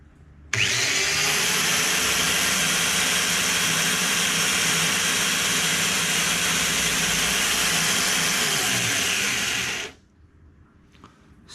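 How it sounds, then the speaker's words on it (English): A homemade 1x30 belt grinder built from a cheap angle grinder spins up abruptly and runs at a loud, steady high-pitched whir and hiss for about nine seconds before shutting off and winding down. "So that's the homemade grinder"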